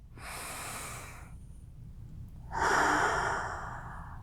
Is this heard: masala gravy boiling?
no